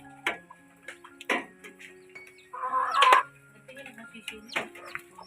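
A mother hen clucks among her newly hatched chicks. Short, close clucking calls come in separate bursts, with one louder, longer call in the middle.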